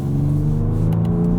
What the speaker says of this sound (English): The exhaust in this is actually pretty rowdy.